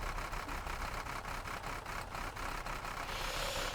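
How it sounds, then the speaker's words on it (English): Mercedes Citaro facelift city bus engine idling just under 700 RPM in the OMSI 2 bus simulator, a steady low diesel rumble with faint regular pulsing, continuous and alone throughout. "We're idling just under 700 RPM to start off with"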